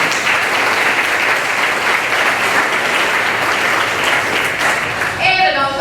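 Audience at a Rotary Club luncheon gives the committee a round of applause, loud continuous clapping from a crowded room that carries on throughout, with voices and a cheer breaking through near the end.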